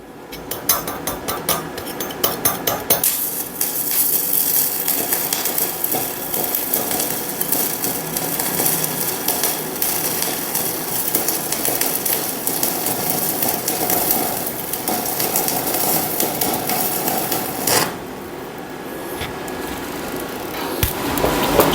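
Root pass welding on stainless steel pipe at about 105 amps, with a continuous crackling, buzzing arc held steady for a long stretch, briefly interrupted near the start and dropping in level toward the end.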